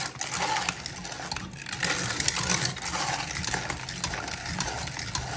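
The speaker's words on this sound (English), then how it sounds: "Then you take the food mill, just like this, and all you do is grind it." A hand-cranked food mill grinds cooked tomatoes into sauce, with a steady, close, loud churning and grinding that rattles continuously and without pause.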